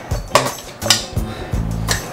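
Pieces of frog meat are dropped into a ceramic pot, giving several close, dull clunks and clinks of utensils and food against the pottery in quick succession.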